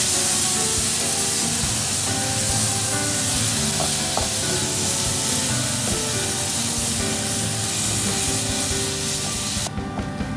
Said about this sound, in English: add in tomato chunks and stir-fry over high heat for 1 to 2 minutes until the juice almost dries off